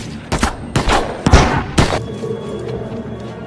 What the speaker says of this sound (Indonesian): Stanley malah mengangkat senjatanya sehingga para penembak jitu itu menembaknya.